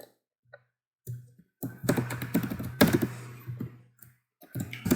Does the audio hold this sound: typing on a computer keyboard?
yes